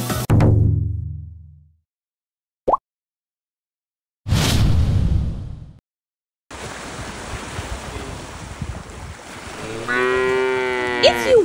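A black cow roaming free on Ishigaki Island, Japan, lows once loudly near the start, followed by silence, a short gust, then steady rushing wind and surf noise to the end.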